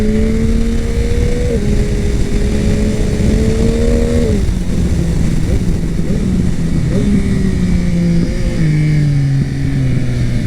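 Yamaha MT-09 SP 2021 motorcycle engine revving up loud and close in two long rising pulls, pitch climbing then dropping at each gear change, with a strong, steady engine drone throughout.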